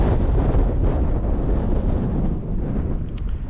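Heavy wind buffets the microphone outdoors at Arches National Park in a sustained low rumbling roar, loud and continuous with slight surges, no voices.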